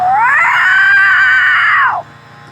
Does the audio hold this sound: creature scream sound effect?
yes